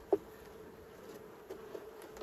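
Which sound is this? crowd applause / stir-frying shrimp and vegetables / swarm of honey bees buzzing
swarm of honey bees buzzing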